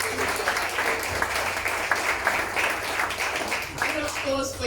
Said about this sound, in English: A round of applause for those people who donated.